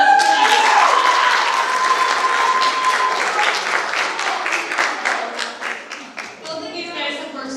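Audience applause at a school awards ceremony, loud sustained clapping from a crowd in a hall that gradually fades as a voice begins speaking.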